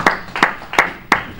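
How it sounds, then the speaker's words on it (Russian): Four separate sharp claps spaced about a third of a second apart, close and moderately loud, at a hockey press conference for a Krasnoyarsk Sokol club player signing. "Наверное, большие аплодисменты."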